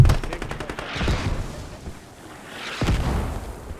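Gunfire and heavy explosions from the military shooter game Squad during a tournament match: sharp rattling bursts of shots, followed by two big booming blasts that roll off and fade, with no voices.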